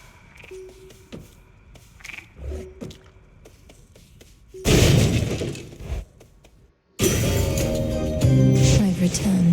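Glass rock shatters in Hades 2: after quieter game chimes and tones, two loud, dense crashing bursts of breaking crystal break out, the second sustained and ringing.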